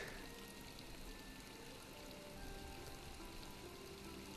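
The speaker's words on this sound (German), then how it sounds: "Und das Wasser ist wieder an. Es funktioniert wieder." Steady rushing of water running into the pool at Croft Manor in Tomb Raider Anniversary, a continuous faint even wash with no breaks and no voices.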